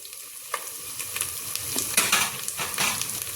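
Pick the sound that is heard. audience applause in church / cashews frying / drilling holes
cashews frying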